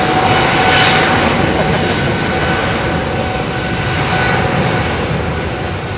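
An EasyJet airliner at London Heathrow Airport roars past close by, a loud, steady jet engine rumble with no talking.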